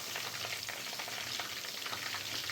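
Coated chicken kabab pieces fry in hot oil with a dense, continuous close-up sizzle and crackle, no voices over it.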